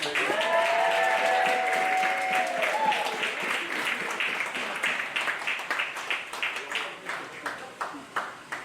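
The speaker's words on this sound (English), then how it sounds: "Round of applause, please." Audience applause greets the 2025 Joe Hill Award winner at an award ceremony. It starts as a full, steady wash of clapping with a brief tonal ring early on, then thins out to fewer, separate claps toward the end.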